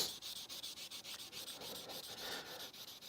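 A knife blade is hand-sanded with a sanding stick, giving steady rapid back-and-forth rasping strokes with a regular rhythm, close and fairly soft, with no voices.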